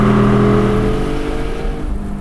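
A high-compression 4.5-litre Porsche Spyder engine running loud and close, a steady exhaust drone with tonal bands that slowly fade as the revs drop, without distinct crackles standing out.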